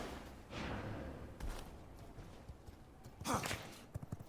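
Hoof clip-clops from a trotting horse in the video game V Rising, fairly faint and uneven, with a few louder thuds near the end and no talking.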